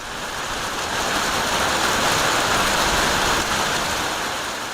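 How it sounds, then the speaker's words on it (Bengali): Heavy rain with hail during a storm roars in a dense, steady wash of noise, loud and unbroken throughout, with no voices. "শুক্রবার দুপুর তিনটা হঠাৎ শুরু হয় ঝড়ো হাওয়া এরপর শুরু হয় বৃষ্টি"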